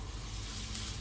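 Garlic dropped into hot olive oil in a pan, giving a loud, dense, continuous close-up sizzle that fills the whole brief moment with no voices.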